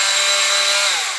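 An oscillating multi-tool runs at its hyper speed setting with a loud, harsh, high-pitched buzzing whine, steady and close before it begins to wind down at the end.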